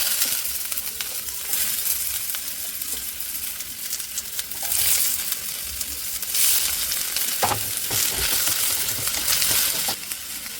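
Ginger, green chili, curry leaves and onion sizzle steadily in a pan, a loud continuous frying hiss broken by a few clinks and scrapes of stirring, with no voices.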